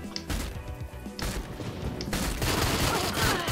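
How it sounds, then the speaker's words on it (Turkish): Gunfire in the video game Door Kickers: Action Squad during a hostage rescue, loud rapid bursts of shots layered over each other and building toward the end. "Rehineyi vurdum, helal et."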